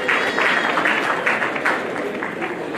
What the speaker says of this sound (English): May you please a hearty clap for our Madam.